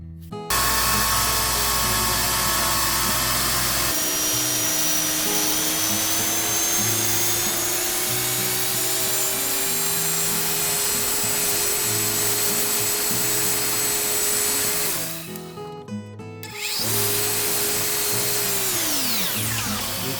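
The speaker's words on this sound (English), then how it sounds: "Now I'll shape these a little bit on the back on the sander." A power sander shaping wood pieces for a puukko knife sheath whirs loudly and continuously with a high whine, pausing briefly near the end before starting up again.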